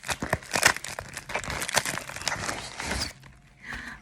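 Plastic packaging bag from a beauty subscription box crinkling and rustling as it is handled and opened up close, in a dense stretch of crackly noise that drops away near the end.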